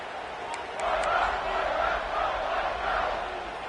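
Stadium crowd noise in College Football 26, Texas State against Purdue, a broad steady roar swelling and easing in waves, with faint commentary voices beneath it.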